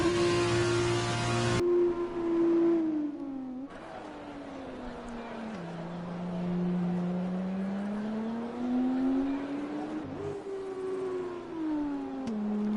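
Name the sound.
racing cars on wet tyres, from a racing video game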